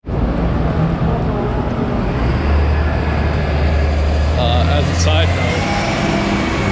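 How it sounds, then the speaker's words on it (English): Busy London street traffic forms a steady, loud roar of passing vehicles throughout, with someone talking over it. "Hopefully you can hear me over the sound of all this traffic."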